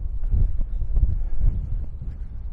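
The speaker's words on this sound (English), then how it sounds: "Windy." Wind gusting against the microphone on a countryside walk in Kent, low rumbling buffets rising and falling across a couple of seconds, fairly loud and close with no voices.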